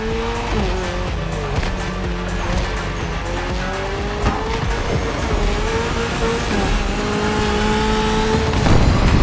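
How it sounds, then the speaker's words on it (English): Toyota GR86 race car in a video game, engine droning loud and steady with rising and falling gear pitches, tires squealing through corners as it accelerates continuously, no voices. "You should be ready for anything with that Toyota GR86."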